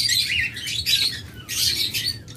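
Several lutino lovebirds and cockatiels give bursts of shrill chirps and squawks from a crowded breeding aviary. The calls come in repeated overlapping clusters, close and fairly loud, with no voices.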